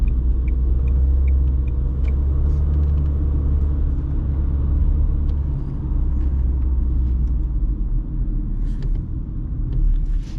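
Car with a CVT transmission driving in low gear, a loud, steady low engine rumble and road drone filling the cabin, with faint clicks and rattles on top and no talking.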